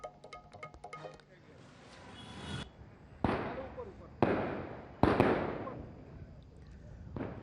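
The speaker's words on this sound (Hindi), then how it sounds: "पटाखे जलाए जा रहे हैं, फोड़े जा रहे हैं और खुशी का माहौल है।" Firecrackers burst at a political celebration in Ambikapur: a quick crackle of small pops, then three loud separate booms with sharp onsets and long fading tails, outdoors with some voices in the background.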